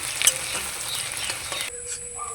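Onion fries in hot oil with dried chillies and bay leaves, a close, bright sizzle with a few crackling pops that drops sharply to a quieter hiss partway through, with no voices.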